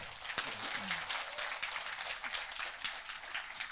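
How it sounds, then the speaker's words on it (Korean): A church congregation applauds to welcome a visiting bishop-preacher at a thanksgiving service, a full, continuous patter of clapping from many hands heard at a moderate distance. "박수로 크게 한번 환영해 주시겠습니다."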